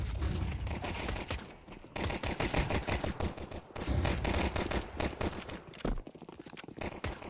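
Rapid, dense pistol fire crackles almost without a break through a Counter-Strike pistol round on the Dust 2 map, with many overlapping shots at a steady high volume.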